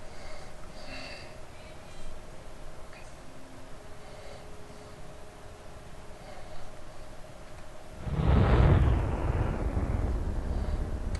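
A rocket engine in Kerbal Space Program gives a sudden loud, rushing burst after a stretch of steady low hum, then trails off into a sustained roar.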